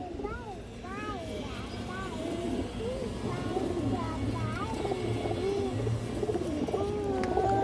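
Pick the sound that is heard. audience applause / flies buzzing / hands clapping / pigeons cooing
pigeons cooing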